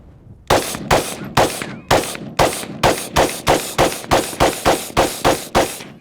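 An AK/AR hybrid rifle fires a quick, even string of about fourteen shots at a steel target, each crack sharp and loud with a brief ringing tail, and no talking between them.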